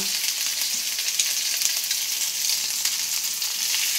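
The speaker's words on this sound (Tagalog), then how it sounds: "Hinalo ko na yung chicken." Chicken frying and being stirred in a hot pan, a loud, dense, continuous sizzle with faint scraping, close by and steady throughout, no voices.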